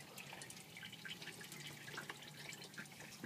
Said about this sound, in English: And we'll let the oil drain out of the motor.